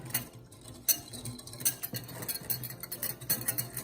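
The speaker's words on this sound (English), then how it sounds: "And then we'll whisk that up." Sugar being whisked in a bowl while making blueberry cream cheese puff pastry, a quick run of light metallic clicks and scrapes from the whisk against the bowl, close and fairly brisk.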